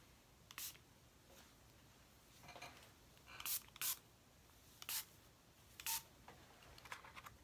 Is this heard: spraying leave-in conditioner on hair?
yes